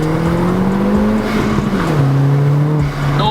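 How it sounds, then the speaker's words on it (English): A Volkswagen Golf GTI 20th Anniversary Edition pulls hard in second gear on a wet road, its engine droning loudly and steadily with a pitch that climbs, dips briefly, then climbs again. "let's actually do a second gear pull right now"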